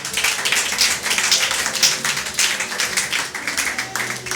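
A church congregation claps in praise of the Lord, a steady dense patter of many hands filling the room at close range with no voices over it.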